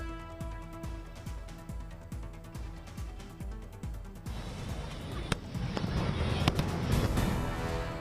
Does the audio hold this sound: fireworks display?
yes